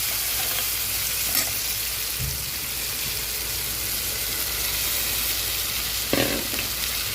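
Flattened poha rice flakes go into a hot pan of softened tomatoes and are stirred, making a steady, close sizzle with a few scraping stir strokes and no talking.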